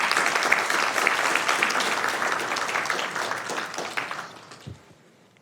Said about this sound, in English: give a big round of applause to Dancing on the Edge here.